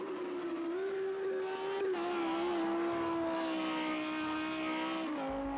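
Race cars roar around Donington in Project CARS 2, a pack of Audis, Ferraris and GTRs whose engines drone steadily at high revs with a sustained whining tone and a slight gear-change dip near the end.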